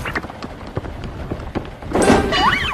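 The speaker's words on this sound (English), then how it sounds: "The door banged open." A sudden loud bang bursts in after scattered thumps, followed by rattling and a rising whistling squeal as a barn door bangs open in a storm.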